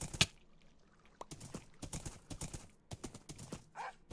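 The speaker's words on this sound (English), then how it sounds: "Alright, come on, horse." Horse hooves clip-clop in Minecraft as a series of quick, fairly faint knocking steps in an uneven rhythm, with a brief louder clatter near the start.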